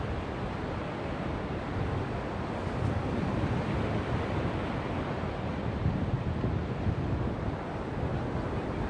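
Ocean surf on Myrtle Beach rolls in a continuous broad roar, close and steady, with gusty wind buffeting the microphone throughout.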